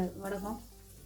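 Homemade vadagam dropped into hot oil for fish curry, a brief soft sizzle and crackle that fades quickly.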